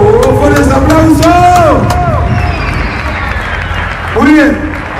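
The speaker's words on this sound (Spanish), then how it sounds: "¡Por ese aplauso!" Crowd at a Spanish-language rap battle final applauding and cheering, with dense clapping and voices over a loud, steady roar that eases in the middle, then a voice calls out near the end.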